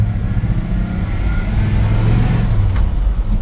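A 1963 Ford F100 Stepside pickup's engine pulls hard under acceleration, a steady low rumble rising slightly in pitch, heard close and without talk.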